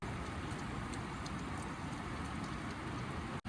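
Bitter gourd fries with onions in a pan at a riverside night campsite, a steady, dense sizzle that runs unbroken and fairly close, with no voices over it until it cuts off sharply at the end.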